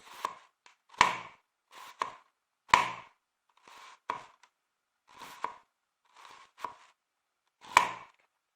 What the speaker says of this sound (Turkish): Soğanlarımızı incecik doğruyoruz.